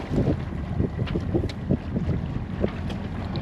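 A sailboat motoring out of the anchorage near La Cruz and Puerto Vallarta right after the anchor is raised: a steady low rumble with water wash, wind buffeting the microphone, and no voices.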